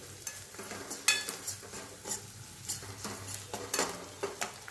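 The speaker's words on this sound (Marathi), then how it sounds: "आता हे व्यवस्थित असं परतवून घ्यायचं आहे।" Spices and homemade masala, with a little onion-garlic masala, being sautéed in a pan for a lentil aamti: repeated spatula scrapes and stirring knocks over a soft sizzle, close and moderately loud, with no talking.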